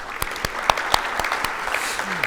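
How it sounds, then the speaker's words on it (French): Audience applause at a round-table discussion on agronomic and veterinary higher education: steady, moderately loud clapping from a seated crowd throughout, with a few sharper individual claps standing out. "on peut t'applaudir"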